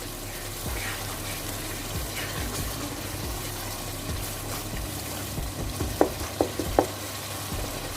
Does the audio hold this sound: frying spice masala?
yes